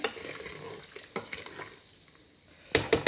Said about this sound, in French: Donc une fois que vous avez mis la bière, vous mélangez bien.